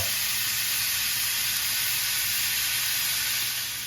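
Chicken breasts sizzle steadily in a hot grill pan, a close, loud, continuous frying hiss with faint crackle that holds evenly throughout before easing slightly at the end.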